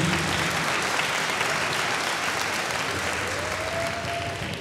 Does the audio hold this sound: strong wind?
no